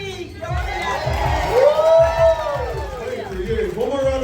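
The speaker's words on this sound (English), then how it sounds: "one more round of applause for all of our survivors" A crowd at a dinner-dance celebrating cancer survivors cheers and whoops, a lively rise of shouting with some clapping, while a loud voice over a microphone carries on above it.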